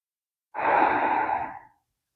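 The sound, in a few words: slow breathing during yoga tree pose practice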